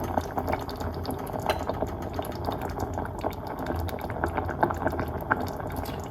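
Carrot soup simmers in a pot, a steady low bubbling and burbling that runs continuously with small irregular pops throughout.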